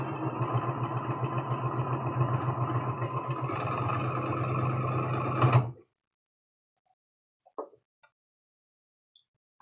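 A sewing machine stitches a quilt block seam in one steady, rapid mechanical run for several seconds, then stops, leaving a few faint clicks and taps in near silence.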